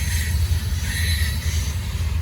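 A Norfolk Southern freight train led by C6M and S44 locomotives rolls past, with a continuous heavy low rumble and a metallic wheel hiss that holds steady and loud throughout.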